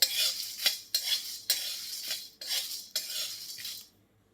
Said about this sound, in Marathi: वेलदोडे पण आपल्याला भाजून घ्यायचे.